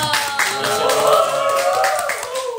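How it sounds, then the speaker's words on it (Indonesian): An audience claps for a provincial Paskibraka flag-raising troop member during a talk, brisk clapping running throughout with a tonal, music-like layer sounding beneath it. "Keren banget, tepuk tangan dong."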